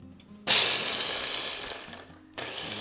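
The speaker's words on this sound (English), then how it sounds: "we're going to be grinding this, or mixing it, or blending it" A blender grinds Cheetos into a fine powder for a chicken-ring breading, a loud steady whirring roar that runs for about two seconds, cuts off, then starts again.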